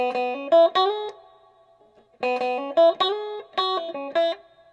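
A distorted electric guitar plays a short lick twice, clean note changes without a grace note or slide, each phrase ringing out before a brief pause.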